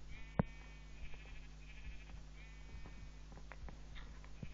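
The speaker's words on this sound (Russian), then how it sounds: "извините за эту овцу дурацкую" A sheep bleats in a video game, short and faint over a quiet steady hum, with a few soft clicks nearby and no speech.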